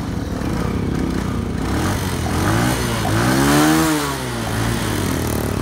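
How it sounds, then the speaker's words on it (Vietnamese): A Honda Future motorcycle engine in original stock condition runs loudly nearby, its pitch rising and falling as it revs briefly, then settling back to a steady idle. "Máy đang nổ đó anh chị của chú bác."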